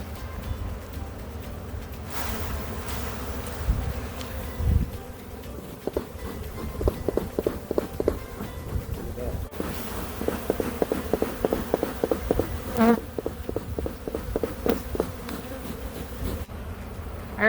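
Honey bees swarm around an open Carniolan hive during queen rearing, a dense continuous buzz close by with scattered footsteps and handling knocks throughout, no talk.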